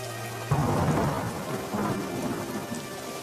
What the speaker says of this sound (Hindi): लखन उस तेज बारिश में घर के लिए चल पड़ता है।